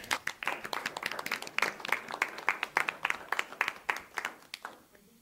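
Steady clapping from a small group, crisp and close, continuing for several seconds before tapering off.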